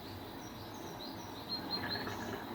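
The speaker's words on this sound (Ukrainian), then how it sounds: "так пташки співають." Faint birdsong drifts in from a distance, a few thin high chirps and whistles over a quiet, low outdoor hum.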